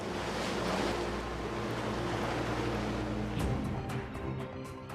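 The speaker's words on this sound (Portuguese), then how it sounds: "O HMS Coventry é engolido pelas ondas" Heavy ocean surf and rushing wind roar continuously as the warship HMS Coventry sinks in the South Atlantic off the Falklands, a dense, loud wash that eases slightly toward the end.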